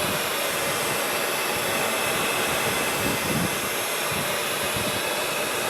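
A heat gun blows steadily while warming a part of an Axial Wraith RC vehicle so it can be bent. The loud, even hiss and whoosh runs unbroken from start to finish.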